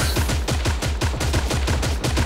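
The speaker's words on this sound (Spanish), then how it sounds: "Escucho tiros. Eran tiros." Rapid automatic gunfire from the video game Creative Destruction, a steady loud stream of repeated shots with a regular fast rhythm and no talking.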